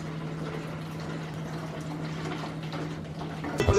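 Water spills and pours onto a floor in a continuous rushing stream, with a steady low hum underneath and a brief clatter at the very end.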